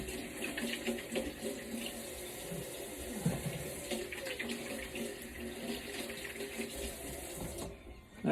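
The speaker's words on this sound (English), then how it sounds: "Wash my hands real quick here." Water runs steadily from a kitchen tap while hands are washed during preparation of Hawaiian spam musubi, a continuous close splashing hiss that cuts off near the end.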